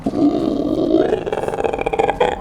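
A ghost growls in a haunted-house escape horror video game: a low, rough, rumbling roar that holds steadily for about two and a half seconds, fairly loud and close, with no talking over it.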